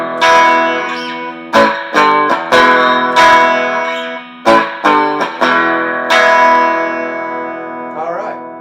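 Electric guitar strums the chorus chords of a song, a series of loud, ringing chord hits with quick upstrokes between them, slightly chorused and bright, fading at the end.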